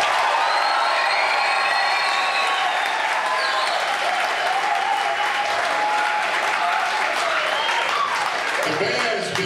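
Loud, sustained applause from a large crowd fills the whole stretch, with scattered cheers and whistles mixed in.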